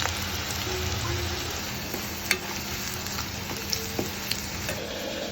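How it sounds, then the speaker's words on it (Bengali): Bitter gourd frying in a little oil, a steady low sizzle running throughout with a few soft clinks of a utensil against the pan. "অল্প অল্প করে করলাটা ভাজবো"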